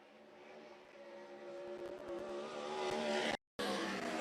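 A 410 sprint car roars through a qualifying lap, its engine note building steadily louder and nearer with a rising whine, cut by a brief dropout near the end.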